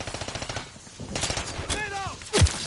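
Rapid automatic gunfire from the Modern Warfare 3 video game, with a run of evenly spaced shots followed by a few louder bursts and a heavy blast near the end, while a player's voice is heard in the background.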